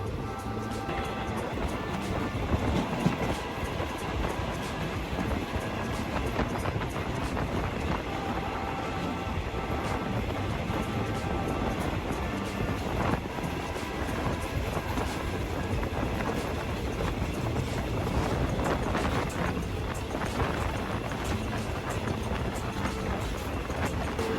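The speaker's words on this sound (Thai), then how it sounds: "โดยรถขบวนรถไฟนั้นลัดเลาะไปตามแนวเขาต่างๆทำให้วิ่งช้านะครับ" A train rolls slowly along a winding mountain line on Thai railway track, giving a steady, dense rumble of wheels and carriages that holds at an even loudness throughout, with faint wind buffeting the microphone.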